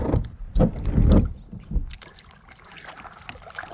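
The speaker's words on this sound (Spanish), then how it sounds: "Así que a remar otra vez." Paddles dip into the water beside a canoe with rhythmic splashing strokes, close and fairly loud at first, then trailing off into soft trickling and dripping.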